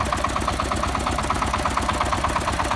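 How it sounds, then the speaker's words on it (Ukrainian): A Shifeng 244 mini tractor's small engine idles steadily with a fast, even chugging pulse, loud and close, running alone without pause. "Ось міні-трактор."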